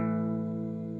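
A two-string electric guitar power chord rings out once, a sustained and steady distorted tone with a gentle decay, with no talking over it.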